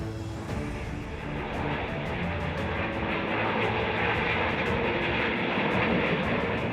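Jet engines of B-2, B-1B and B-52 bombers spooling up together, a loud, dense, continuous roar that holds steady with faint rapid ticking in the upper range.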